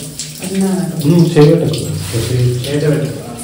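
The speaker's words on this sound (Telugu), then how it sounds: "సన్న నీళ్ళు వస్తుందండి ఆ పుష్పాల మీద వస్తుందండి" A thin stream of water pours over flowers during abhishekam at a Shiva temple, a soft, steady trickle running beneath a person talking close by.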